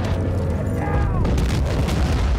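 Bomber explosion in Battlefield 1943, a deep, heavy rumbling boom that fills the whole moment, loud and sustained, with a voice speaking over it.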